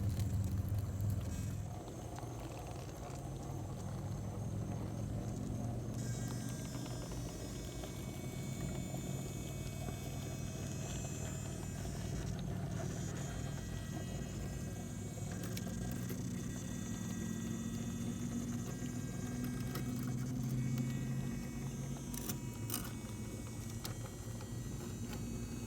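Hobbywing Axe brushless motor system driving an RC rock crawler, a steady low electric whine and drivetrain hum running continuously at close range with faint mechanical patter and no talking.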